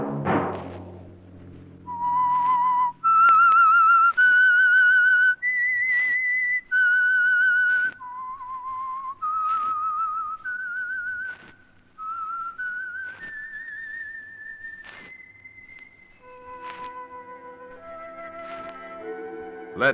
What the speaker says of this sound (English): Let that whistle be your signal for the Signal Oil program